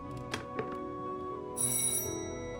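A telephone rings with a bright, trilling bell tone in a TV drama scene, moderately loud over low background sound, with a couple of soft thumps beforehand.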